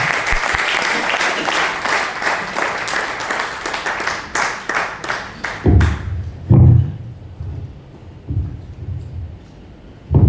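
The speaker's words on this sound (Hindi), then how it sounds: "तालियों के साथ सुमिता केशवा" Dense audience applause rises loudly at a Hindi poetry recitation gathering as a poet is welcomed, then breaks into a few heavier isolated claps and thumps as it fades out.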